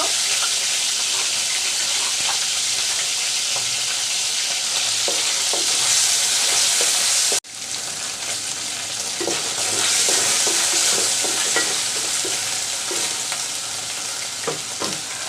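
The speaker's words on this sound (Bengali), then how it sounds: "শুটকিগুলোকে একটু তেলে ভেজে নিলাম" Loud, continuous sizzling of dried fish frying in hot oil, with scattered crackles and pops and a brief break midway.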